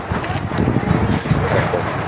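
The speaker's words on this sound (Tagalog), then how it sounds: "Grabe lakas ng hangin guys." Strong wind buffets the microphone outdoors, a continuous low roaring rumble with gusty swells, loud and close, with no clear voices over it.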